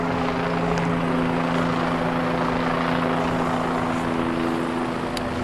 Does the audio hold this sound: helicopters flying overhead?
yes